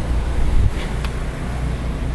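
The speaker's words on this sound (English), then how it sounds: "Oh, it's windy too." Strong winter wind gusting outdoors the day after a New Jersey snowstorm, a loud continuous rumbling roar across the microphone with a brief swell at the start and a short sharp knock partway through.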